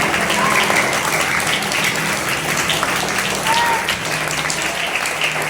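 A school audience claps through a bilingual podcast programme event, steady and dense applause filling the room with little variation.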